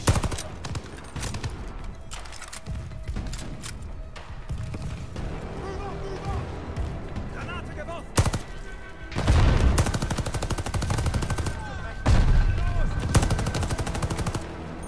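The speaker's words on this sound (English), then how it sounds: "I'm just shooting bullets here." Gunfire in the Call of Duty: Vanguard campaign: loud bursts of rapid automatic fire and single shots in close succession, with heavy booms and sustained fusillades, mixed with voices speaking over the action.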